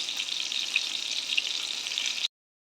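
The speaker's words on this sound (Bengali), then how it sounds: "এইভাবে সব মাছগুলো আমি ভেজে নেব" Small amudi fish fry in a pan with a continuous, even hiss of bubbling oil at moderate volume. It stops abruptly near the end, and no one speaks.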